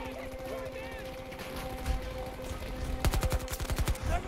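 Rapid gunfire bursts in Battlefield 2042, loud clustered automatic shots building toward the end over a tonal game background, with someone talking through it.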